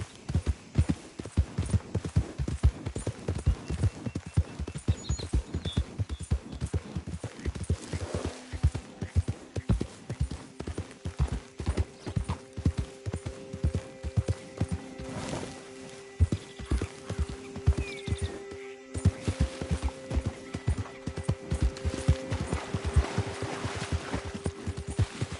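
A horse in Red Dead gallops with rapid, steady hoofbeats that run the whole stretch, with short whinny-like tonal bursts around the middle and no speech.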